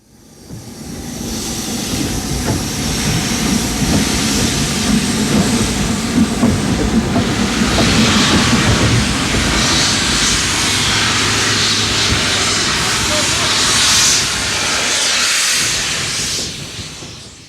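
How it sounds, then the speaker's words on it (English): Steam locomotive 60112 St Simon, originally numbered 4481, backs onto the shed, giving a steady loud hiss of steam with a low rumble of rolling wheels throughout, swelling slightly near the end before fading. "Backing on shed is number 60112 St Simon, originally number 4481"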